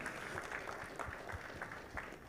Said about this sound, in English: Another round of applause for Yolanda Cuba.